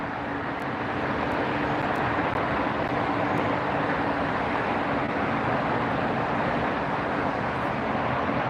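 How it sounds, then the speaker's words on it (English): A Norse Airlines Dreamliner arriving at LAX: a steady, loud broadband jet roar fills the whole stretch with a faint low hum underneath, constant in level throughout. "Norse Airlines, a Dreamliner just arrived."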